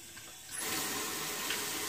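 Water starts running from a tap partway through and keeps flowing steadily, a soft continuous hiss and splash.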